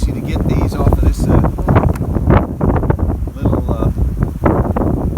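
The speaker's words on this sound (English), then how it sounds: "It's so windy now, it's about to blow my lid off my container here" Strong wind buffets the microphone in steady rough gusts during a bee swarm catch outdoors while a person speaks close by.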